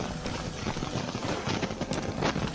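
Hooves of Roach, the horse in The Witcher 3 video game, clip-clop in a steady, fairly loud rhythm under a dense wash of ambient game sound.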